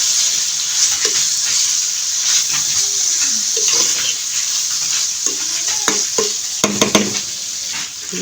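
Small puti fish stirred through spice masala in a hot pan, a continuous bright sizzle broken by repeated scraping strokes and wet squelching turns of the spatula, close and fairly loud.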